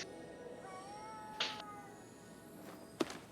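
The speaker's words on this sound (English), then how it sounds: "Oh, multiple cats." Several cats meowing in the video game Ghostwire: Tokyo, a few short, fairly faint mews spaced apart over a steady low background hum with no talking.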